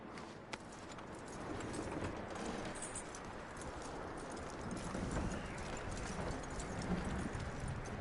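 Horse hooves clip-clop steadily in a video game, a continuous patter of hoofbeats under a dense, rushing ambient wash, fairly even in loudness throughout.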